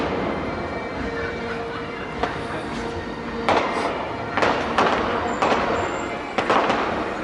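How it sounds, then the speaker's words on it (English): Fireworks bursting at the Edinburgh Fringe, heard outdoors amid crowd noise as a series of loud cracks and bangs at irregular intervals, with a steady background rumble. "trying to watch the fireworks."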